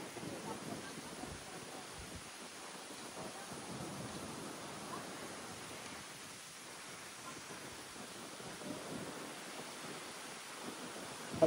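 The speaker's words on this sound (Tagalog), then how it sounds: "Malakas yung ulan mga Kisla." Heavy rain pours steadily during a typhoon on Boracay Island, a dense continuous hiss of downpour that holds an even level throughout with no voices.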